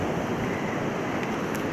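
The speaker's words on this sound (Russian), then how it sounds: "Море бушует, море неспокойно." Rough, stormy sea waves make a continuous dense roar with wind noise, steady and loud for under two seconds with no voices.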